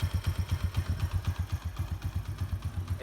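A cheap secondhand motorbike engine idles unevenly up close, its low thumping pulse stumbling and hiccuping in an irregular rhythm.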